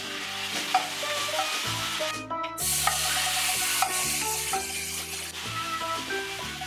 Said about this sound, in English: I'm gonna add some olive oil to the pan and brown it up at the end to give it nice color.